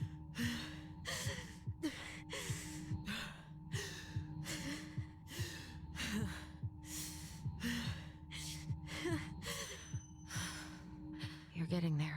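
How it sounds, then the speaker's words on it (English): Repeated breaths from a character in the Tell Me Why video game, a steady rhythm of gasps and sighs over a constant low game hum, calmer and less forceful as the sequence goes on. "much less aggressive breathing is happening now"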